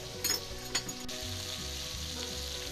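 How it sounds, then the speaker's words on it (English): Steady sizzling and crackling of meatballs browning in a hot frying pan, continuous and fairly close, with a couple of brief clinks near the start. "I can hear my meatballs browning"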